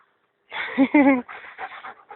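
A dog pants in quick, breathy bursts at close range while walking off-leash beside its handler, with a few soft whimpery sounds mixed in.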